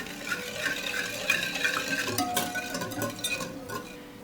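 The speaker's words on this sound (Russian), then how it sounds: "Сюда же добавляем 100 грамм сахара, смешиваем." Sugar, salt and dry yeast stirred together in a bowl for a sweet pie dough, giving a continuous close gritty scraping with faint liquid and clinking tones.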